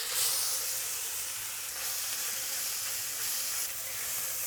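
Beef sizzles hard in a hot wok over high heat, a loud, bright, steady hiss of frying with slight surges in intensity and no talking.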